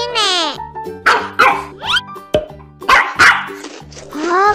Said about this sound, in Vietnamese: con chó này biết ăn đồng tiền hả?